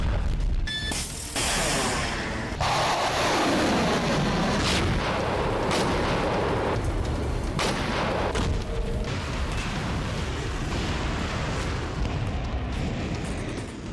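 Heavy artillery fire and explosions tear through a city under bombardment, a dense, loud barrage of repeated booms and blasts that rumble continuously with sharp cracks layered on top, with no talking.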